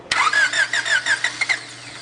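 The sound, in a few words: car engine with blown head gasket starting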